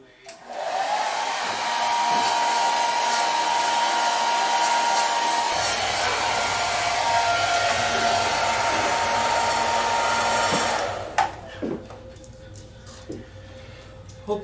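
Heat gun blowing hot air onto vinyl covering on a model Horten Ho aircraft, a loud continuous roar lasting about ten seconds before cutting off, followed by a few faint handling taps.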